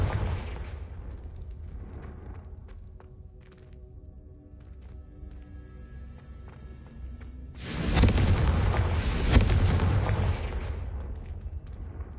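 A Confringo blasting spell goes off in the Hogwarts Legacy game, a loud, broad explosion bursting in around the eight-second mark and rumbling for a few seconds, after a quieter stretch of faint ambient tones.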